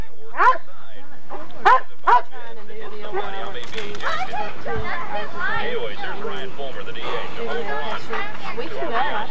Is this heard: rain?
no